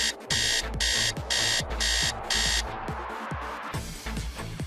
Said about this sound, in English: until your alarm goes off